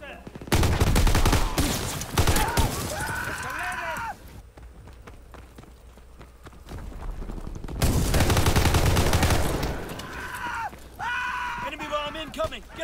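Rapid bursts of strafing gunfire crackle through a multiplayer war video game match, loud and dense in two long volleys separated by a quieter stretch, with game radio voices calling out over the shooting.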